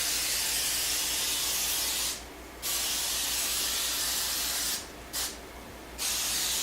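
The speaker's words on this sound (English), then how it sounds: "I'm just going to take some olive oil sprayer." An olive oil sprayer hisses steadily over boudin sausages readied for a Bradley electric smoker, a close, continuous spray broken by three short pauses.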